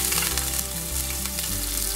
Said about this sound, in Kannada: ಒಂದು 10 ಪೀಸಷ್ಟು ಗೋಡಂಬಿ ಸ್ವಲ್ಪ ಕೆಂಪಕ್ಕೆ ಹುರ್ಕೊಳ್ಳೋಣ